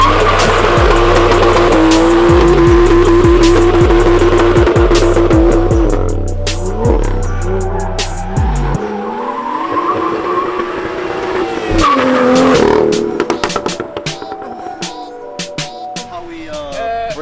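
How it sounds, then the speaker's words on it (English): A BMW M2 on freshly fitted tires spins donuts, its engine roaring loud and steady while the tires squeal in repeated pulses, then the revs drop and the squeal fades into scattered scrubbing and rumble. "You gotta do donuts."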